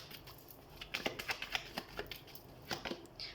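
Tarot cards are shuffled close by in a quiet room, a quick series of soft, crisp riffling flicks and taps coming in short bursts, fairly faint, with no speech.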